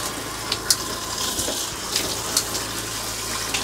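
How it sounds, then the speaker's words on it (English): Hot water running steadily from a tap fed by a newly installed hydronic heater, a constant close rushing gush with a few small clicks, no voices. "the hot water is working"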